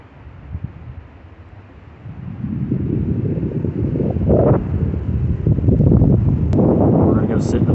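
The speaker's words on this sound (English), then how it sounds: "Pretty windy out." Strong wind gusts across an open field during an Indiana spring turkey hunt, a steady broadband roar that builds after the first couple of seconds and stays loud throughout.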